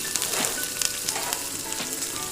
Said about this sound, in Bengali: পাঁচফোড়নটাকে ভালো করে নাড়িয়ে নিতে হবে